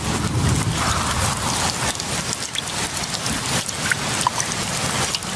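Rain pours steadily onto pitcher plants, a dense, continuous hiss of drops drumming on leaves and surfaces, loud and close throughout with no voices.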